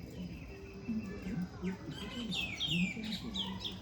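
A very young pigeon chick gives thin, high chirps and peeps, close by, with soft talk and handling noise underneath.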